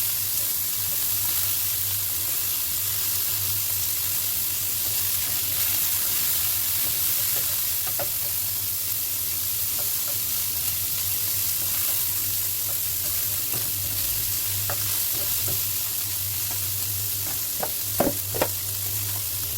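Food sizzles steadily in a pan as it browns in its own rendered fat, cooked for a squash and string bean dish; a continuous close crackling hiss runs throughout, with a few sharper pops near the end and no talking.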